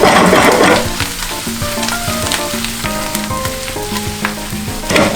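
Pre-fried fish pieces go into a pan of hot sauce mixture, setting off a loud, crackling sizzle with a bubbling fry that continues steadily under scraping stirs.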